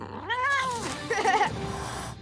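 Cartoon cat meows twice, close and clear: a long, rising-then-falling meow, a short pause, then a quicker, warbling second meow, with no talking.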